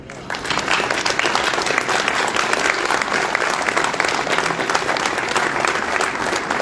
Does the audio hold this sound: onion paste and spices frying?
no